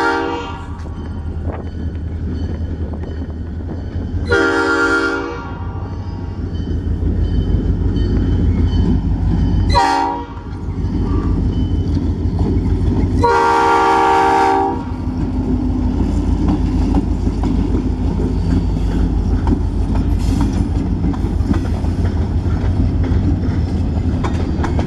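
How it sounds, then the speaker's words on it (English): A freight train heading south from Channing toward Wisconsin rolls past with a continuous low rumble, its horn sounding three distinct blasts, the middle one short, over the passing cars. "I caught the train coming south from Channing"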